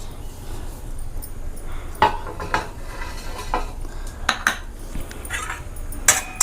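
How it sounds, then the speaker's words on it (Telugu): Cashews and raisins frying in hot ghee for carrot halwa, with a soft sizzle beneath sharp clinks of a spoon against the pan, several louder scrapes scattered through. "నెయ్యి హీట్ అయ్యాక జీడిపప్పు, కిస్మిస్ 2 వేసి పైన ఫస్ట్ 2 వేగించేసుకుని తీసేసుకుందాం పక్కకి."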